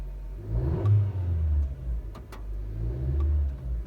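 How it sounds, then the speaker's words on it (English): A Honda CR-V's engine runs from inside the moving car, a steady low hum with a few brief swells in revs, moderately loud and with no talking. "Listen to this engine run."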